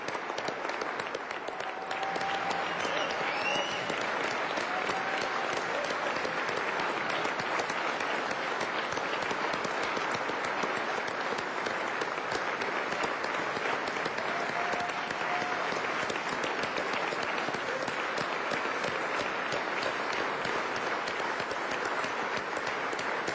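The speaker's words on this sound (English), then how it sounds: "would you please applaud the honorees, their family members, friends, and colleagues who have joined us in the chamber today" Sustained applause fills the Hawaii House chamber for honorees and their families at the opening day ceremony, a dense, steady roar of many hands clapping at even loudness throughout.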